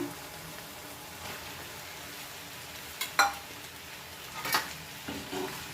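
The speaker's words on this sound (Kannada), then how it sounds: "ಪಾಸ್ತಾ ಹಾಕೊಂಡು ಚೆನ್ನಾಗಿ ಮಿಕ್ಸ್ ಮಾಡ್ಕೊಳ್ಳೋಣ" Macaroni pasta is stirred into a masala in a pan, making a faint, steady sizzle broken by a few soft spoon scrapes and clinks against the pan.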